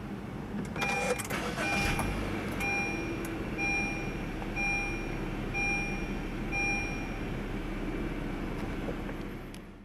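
A 2017 Honda BR-V 1.5 V brought to life by push-button start: a brief starter crank followed by a steady low idle, with regular faint electronic beeps sounding over the engine hum.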